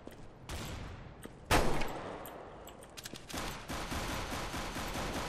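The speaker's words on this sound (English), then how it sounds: "someone just tried to shoot me" Gunfire aimed at the player in the shooter game Counter-Strike: Global Offensive, a burst of shots with one loud close blast near the middle and a run of rapid fire toward the end.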